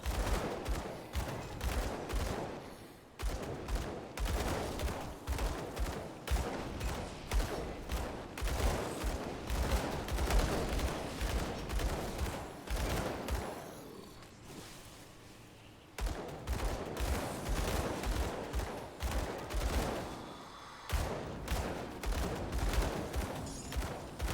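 Sustained video game gunfire from a Purifier gun build in Grim Dawn, rapid repeated shots in long continuous volleys with two short pauses, loud and busy with no talking.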